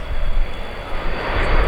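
The engines of a Boeing E-3D Sentry in Royal Air Force service roar steadily as power is increased, a loud broad drone with a deepening low rumble and no voices.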